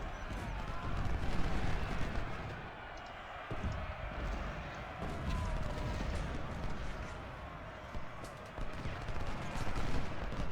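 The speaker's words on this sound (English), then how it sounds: "Put a volley into him." Musket volleys crackle through a Civil War battle in the Ultimate General: Civil War video game, a dense, continuous roar of massed gunfire that holds steady and loud throughout.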